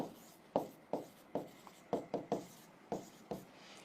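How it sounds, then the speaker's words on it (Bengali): Pen or marker writing on a board during a chemistry lecture, heard as a series of short, crisp strokes at an uneven rhythm, close and fairly quiet, with no talking. "আগে আমি সেম ভাবে নামটা লিখি"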